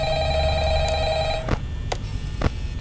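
A telephone rings in the horror video game Five Nights at Freddy's, a steady electronic ring that stops partway through, followed by a few sharp clicks over a constant background hum.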